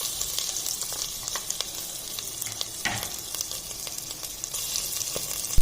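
Crushed ginger and garlic frying in hot oil with cinnamon and cardamom for veg biryani, a steady close sizzle with crackling pops and faint stirring throughout, no talking.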